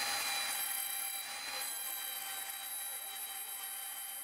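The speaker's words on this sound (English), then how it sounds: "the PR2 uses Bosch power tools to carve wood" A PR2 robot carving wood plates with a Bosch power tool gives off a faint, steady whine with rubbing, grinding texture, holding at an even level for about four seconds.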